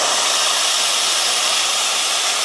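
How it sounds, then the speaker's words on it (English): Steam wand on a matte black Quick Mill Rubino espresso machine fitted with flow control, blasting a loud, steady, high hiss that runs unbroken throughout, close up and with no voices over it. "So let's test the steam first."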